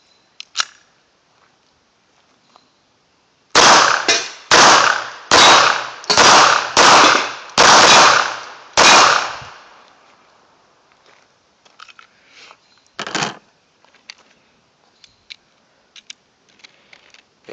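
A Hi-Point C9 pistol fires a string of eight loud, sharp gunshots at a steady pace, preceded by one lone shot, followed by scattered faint clicks and handling noises.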